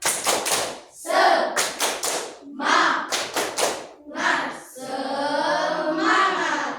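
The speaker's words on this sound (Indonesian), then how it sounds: "Tepuk semangat." Students in a classroom repeat the rhythmic tepuk semangat spirit clap, several quick clustered hand claps in a set pattern, interleaved with shouted group chanting and then a teacher speaking.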